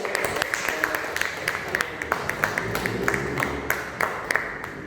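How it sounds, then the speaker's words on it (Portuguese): Church congregation clapping during a worship service, a fairly faint, continuous patter of many hands with some sharper individual claps standing out, steady throughout and with no talking. "Aplauda o Senhor"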